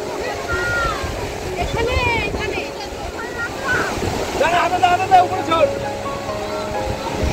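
Sea waves wash up on the beach at Puri in a steady surf wash mixed with wind buffeting, heard under people talking nearby.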